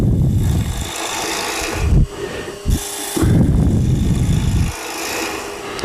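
A Hunter Hercules tool hollowing the inside of a wooden bowl on a lathe gives loud, steady scraping and rasping bursts, broken by a few short pauses.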